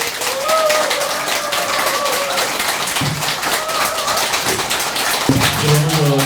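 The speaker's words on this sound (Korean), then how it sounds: "여러분 박수로 환영해 주시기 바랍니다" Brisk, crackling applause greets party leader Heo Kyung-young at a November 2019 press conference of the National Revolutionary Dividend Party, steady and full throughout, with voices talking over it.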